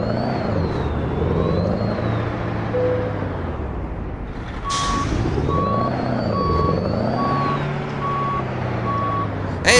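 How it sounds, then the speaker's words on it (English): A truck engine in American Truck Simulator revs and drops in loud, rolling surges, with a steady repeating beep joining partway through. "It sounds like a truck now!"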